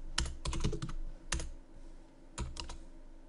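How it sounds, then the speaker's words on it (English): Quiet typing on a computer keyboard while an invoice is filled in, with short clusters of close key clicks separated by brief pauses and no talk. "let's just continue typing it"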